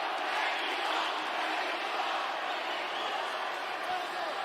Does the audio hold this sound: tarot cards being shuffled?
no